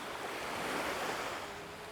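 Ocean surf rolls onto a Cayman Islands beach at a sea turtle release, a steady, broad wash of breaking waves close by with some wind, no voices over it.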